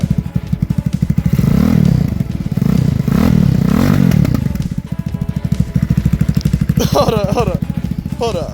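Close and very loud, the swapped ZS175FMN engine in a Lifan KP Mini 300 motorcycle clatters through a steady idle with a few surges, while a voice speaks over the running motor toward the end.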